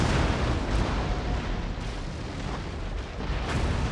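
Ship cannons fire continuously in a naval battle in Empire Total War, a dense, loud rumble of overlapping booms with a few sharper blasts standing out from the roar.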